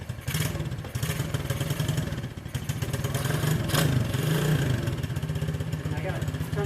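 An Orion RXB 125cc pit bike engine runs just after a kick start, a steady, close, fairly loud rattling idle with fast, even putters throughout.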